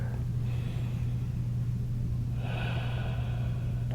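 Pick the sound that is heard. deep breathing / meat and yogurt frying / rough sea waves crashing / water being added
deep breathing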